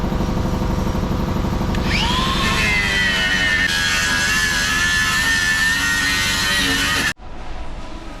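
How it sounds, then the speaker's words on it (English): A power grinder whines steadily as it grinds seam sealer out of a Porsche Taycan body panel, a loud, close, sustained buzzing screech with a rising pitch that cuts off abruptly near the end. "so I just grinded out all the seam sealer"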